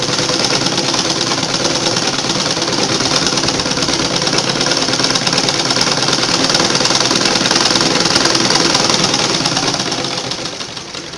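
A sewing machine runs continuously while stitching a track pant, a loud, steady rapid mechanical clatter that holds for about ten seconds before easing slightly at the end.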